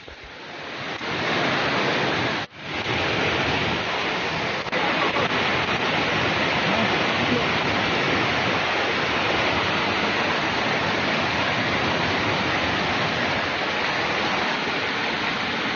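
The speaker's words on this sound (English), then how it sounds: "the water is seen flowing into the fishing drape" Water rushes steadily into a traditional Naga bamboo fishing trap built in a stream, a loud broadband wash with no pause apart from a brief dip early on.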